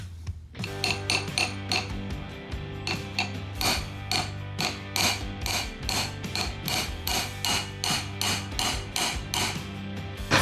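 Steel washer used as a driver to tap a part into a motorcycle engine cam chest, giving a steady run of sharp metallic hammer taps, evenly spaced and close, with no talking.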